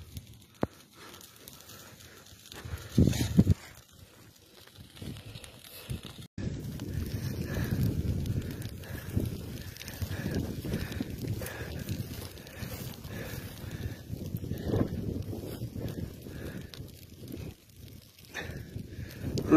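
A stubble fire spreads into trees in Sivas, Turkey, while wind fans the flames, giving a continuous low rushing roar and buffeting that grows louder after a sharp break, with faint crackle and scattered movement throughout.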